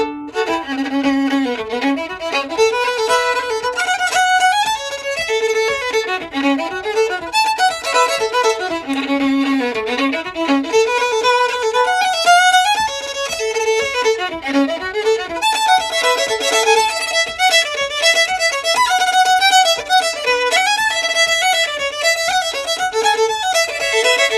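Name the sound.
fiddle bowed triplet in a reel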